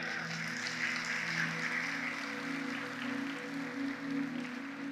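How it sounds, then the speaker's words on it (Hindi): A hall audience claps at a student parliament address by a lyricist and poet, giving a steady, sustained wash of applause with a low tonal hum underneath. "अगर आज्ञा है तो मुझे तालियों से आज्ञा दें।"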